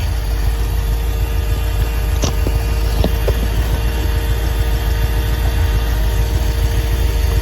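A car engine idling after a carburetor rebuild, a steady, low hum throughout, with a couple of faint clicks partway through and no voices.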